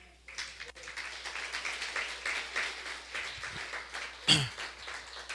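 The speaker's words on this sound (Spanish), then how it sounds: "por favor, dele un aplauso al Señor" A church congregation gives a faint, scattered round of applause for the Lord, soft clapping that continues steadily and then ends with one louder thump.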